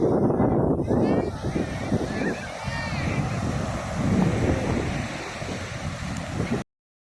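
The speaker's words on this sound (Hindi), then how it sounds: "आज समुंदर में करंट भी है तो आप लहरें भी देख सकते हैं" Sea waves surge against the shore at Porbandar, a rolling wash of surf with heavy wind buffeting the microphone. It swells and eases over a few seconds, then cuts off abruptly.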